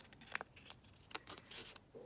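Scissors cut through collage master board with a few short, quiet snips and crunches spaced irregularly, close up and faint.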